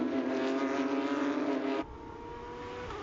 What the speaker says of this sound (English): Is there anything better than hearing flat 6 engines?